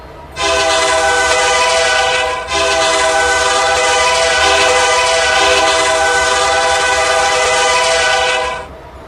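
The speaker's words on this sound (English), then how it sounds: "Anyways, horn review." A locomotive horn sounds loud and near in a train video game, two long sustained multi-tone blasts with a short break after the first, the second held for about six seconds before cutting off.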